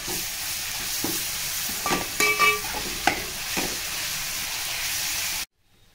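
Ginger, garlic, green chilli and coriander paste fries in a pan for chicken biryani, a steady close sizzle with a few stirring scrapes and clinks before cutting off abruptly.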